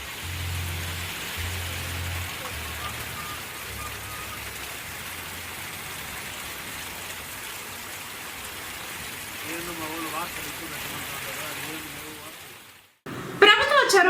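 Sudden rain falls on the streets of a town and makes a steady, dense hiss that fills most of the recording. It cuts off abruptly near the end, when a different, brighter sound briefly takes over.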